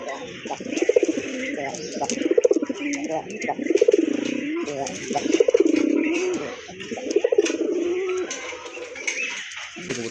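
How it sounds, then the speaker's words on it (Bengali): A pair of Chuina pigeons coo in a steady rhythm, about six rounded, throaty coo phrases close by and fairly loud, with faint background noise between them. "সুইট কিউট দেখার মতো এক জোড়া চুইনা কবুতর"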